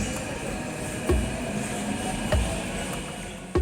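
Hyderabad metro train running, a steady broadband rumble of wheels and motors with periodic low thumps roughly every second and a half as the carriage passes rail joints, heard from inside with no talk.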